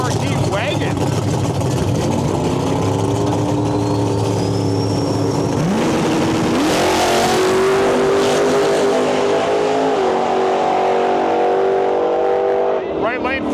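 Drag racing cars, among them a Mercury Marquis wagon, roar down the track at a Rocky Mountain Nationals event in Western Canada, with loud sustained engine drone and rising revs under continuous announcer commentary.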